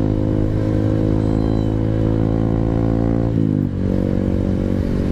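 A Honda CRF150 dirt bike engine runs steadily at close range, a loud continuous harmonic drone with a brief dip in pitch and revs near the middle before picking back up.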